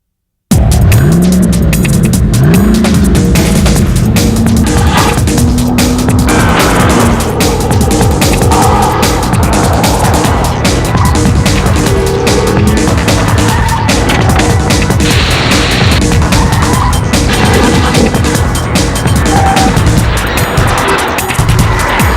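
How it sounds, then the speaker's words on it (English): An unladen GM vehicle spins its rear tyres hard, loud continuous tyre squeal and skidding over a roaring engine that rises and falls in pitch, close up and sustained, with no talk. "the rear tyres, when this thing's unladen, are only too winning to spin"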